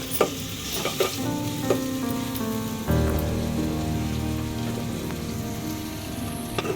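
Onions sizzle steadily in a hot pan as they fry until soft, with brisk crackling and occasional scraping stirs, close and continuous, no talking.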